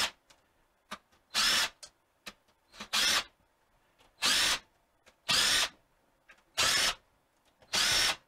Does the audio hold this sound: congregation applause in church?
no